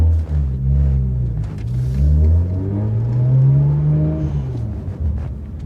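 A BMW 1M engine idles and revs up close with a deep, buzzy exhaust note, pitch climbing and falling through one long rise over a steady low rumble.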